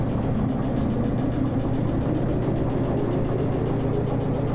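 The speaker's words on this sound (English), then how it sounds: "It's a really loud ballast crunch" Steady loud low rumbling crunch of a train rolling over ballast in the Derail Valley train simulator game, continuous and close without pauses.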